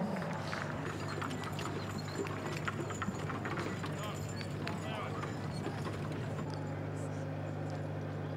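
Horses walk around the main show ring at the Great Yorkshire Show, their hooves clip-clopping faintly and irregularly under a steady outdoor hum while a commentator talks over the sound.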